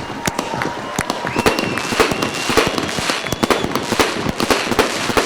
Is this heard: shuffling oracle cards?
no